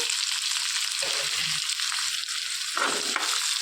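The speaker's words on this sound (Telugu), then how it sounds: "సన్నగా తరిగి పెట్టుకున్న ఉల్లిపాయలు వేసేసుకోవాలి." Finely chopped onions fry in oil with curry leaves in a pan for bitter gourd fry, giving a steady close sizzle with brief stirring scrapes and no talk.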